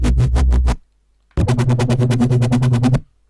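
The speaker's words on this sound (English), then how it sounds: "So as you can hear, the higher you go up the octaves, the faster it wobbles." Synth Reese bass wobbling under an LFO with key tracking, loud and alone, first a slow pulsing phrase and then after a short gap a higher, faster, evenly throbbing run.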